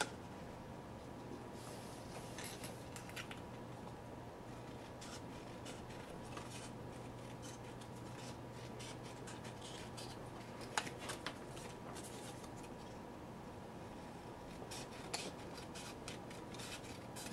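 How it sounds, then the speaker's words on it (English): Scissors fuzzy-cutting paper pieces for a scrapbook album, a soft continuous rasping and rustling close by, quiet and steady with a few faint snips and clicks scattered through. "Gonna go ahead and cut a few of these out."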